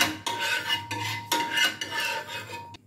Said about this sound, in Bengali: আমি খুন্তির সাহায্যে এইভাবে চারিদিকে একটু তেলটা ছড়িয়ে দিচ্ছি।